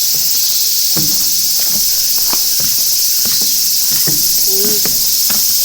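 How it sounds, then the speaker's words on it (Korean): A loud, high, unbroken cicada drone saturates the air at a wooded campground, with scattered thumps and footstep-like knocks close by underneath. "매미 소리가 장난 아니야."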